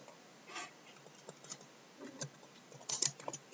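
Keys tapped on a computer keyboard while an HTML heading is entered, scattered quiet clicks in short bursts with a slightly louder cluster near the end, no voices.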